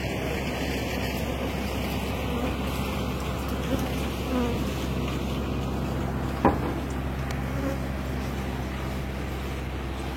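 Honey bees buzz around an open hive during a summer honey harvest, a steady close drone of many wings filling the whole stretch, with a brief knock partway through.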